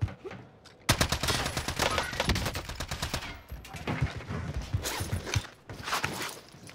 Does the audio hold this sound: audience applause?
no